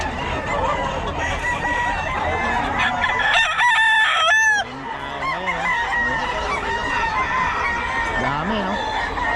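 A Sweater gamefowl rooster crows loudly and close by in one drawn-out call, with other chickens clucking around it and people talking throughout.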